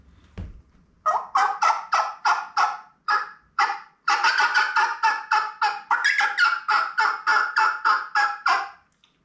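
A turkey caller imitates a hen's cutting call, a rapid series of sharp, loud cutting clucks, bursts of quick notes in irregular rhythm, close up with nothing else around.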